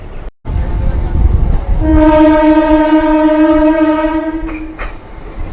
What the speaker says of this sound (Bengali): কার্ভ লাইনের পথে ছুটছে ট্রেন